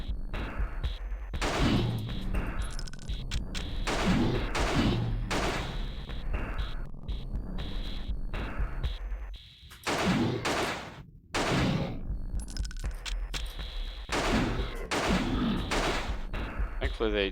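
Gunfire in the survival-horror video game Alone in the Dark: The New Nightmare, loud repeated bursts of shots filling most of the stretch with a couple of brief pauses, mixed with a dense game soundtrack.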